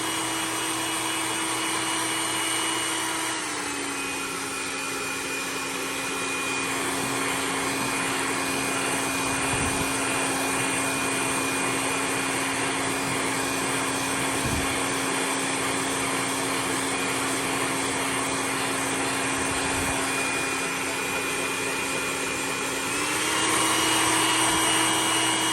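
A blow dryer drying crackle paint on a fishing lure, steady whirring motor hum with airflow hiss running continuously, pitch dipping slightly after switching settings and rising back near the end.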